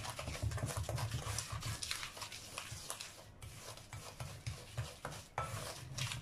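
Chocolate chip cookie dough is worked with a spatula in a bowl, making a soft, repeated rubbing and scraping rhythm with light knocks against the sides, close and fairly quiet, with no talking.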